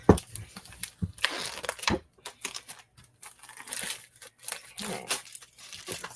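Paper and plastic packaging of a Paper Pumpkin craft kit being torn open and crinkled in short bursts of rustling and tearing, with a person speaking briefly between the handling noises.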